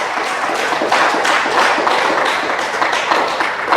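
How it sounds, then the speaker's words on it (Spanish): A church congregation claps together in a steady, dense patter of applause that keeps up evenly throughout, with little speech. "dele un aplauso al Rey de Reyes"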